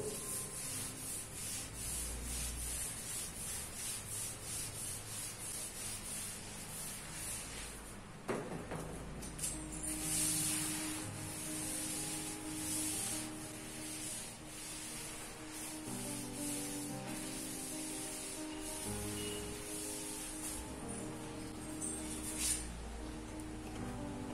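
Board in a classroom being rubbed clean, a long stretch of soft, continuous scrubbing and wiping strokes, quiet and close, with a brief knock partway through.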